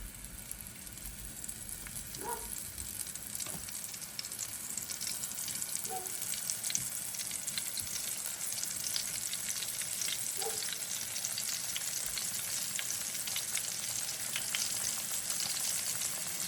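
Squirrel meat frying in hot grease, a steady close crackling sizzle that runs the whole time with faint stirring and scraping, no voices.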